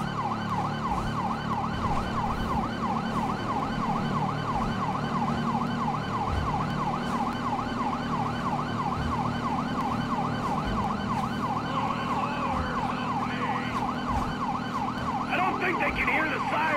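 Police sirens in Grand Theft Auto 5 wail steadily through a tunnel pursuit, a continuous rising-and-falling electronic tone over engine rumble and a constant low hum, with faint voices underneath.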